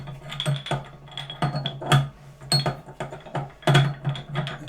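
A metal fitting is screwed down onto a pub beer engine, giving irregular close clicks and scraping ratchet-like taps in quick bursts with brief pauses between them.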